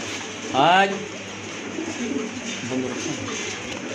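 A pet pigeon coos once, a short rolling call near the start, followed by quieter murmuring and room noise with people talking nearby.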